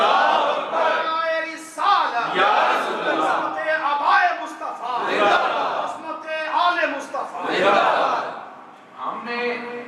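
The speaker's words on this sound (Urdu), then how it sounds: "اب میرے آقا کے آباء و اجداد کے نعرے لگتے ہیں" A crowd at a religious jalsa gathering chants slogans in loud, surging waves. Several rhythmic bursts rise and fall in turn, with shouted voices close by.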